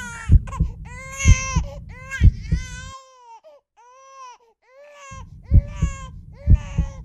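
An infant cries in loud, sobbing bursts with rhythmic wails, pausing briefly to a softer whimper before the crying resumes, close and prominent, in a Tamil horror short film.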